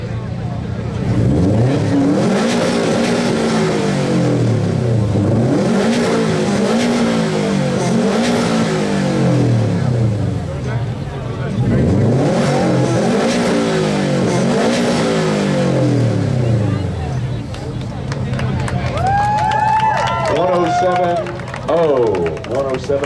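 A 2019 Subaru STI revs its exhaust at a car show exhaust competition, several loud rising and falling revving bursts up close, followed by crowd noise, cheering and talk at the end.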